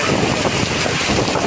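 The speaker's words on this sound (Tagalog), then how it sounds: "Umuusok-usok sa sobrang lakas ng hangin." Strong wind in a storm with heavy rain roars continuously and loudly against the microphone, a dense unbroken rush with no pauses and no voice.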